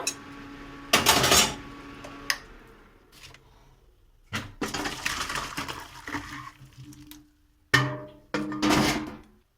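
Boiled jackfruit is tipped into a metal strainer in several clattering bursts with short quiet pauses between, close and fairly loud.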